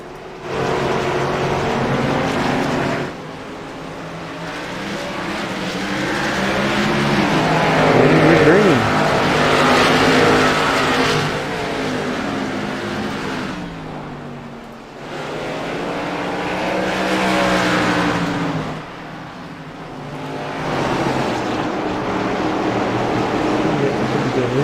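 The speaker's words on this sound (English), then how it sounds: "Quite a big pack of cars here in the back of the pack." A big pack of ARCA Menards stock race cars roars around a corner in waves of engine noise, swelling and fading as groups pass, with commentators talking over the top.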